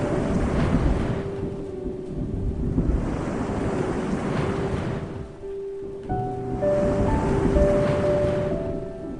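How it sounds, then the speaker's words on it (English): Loud, continuous rush of ocean surf with wind roaring across the microphone, waves swelling and breaking in rolling surges, no voices. "He watched the waves crash like a chaotic symphony."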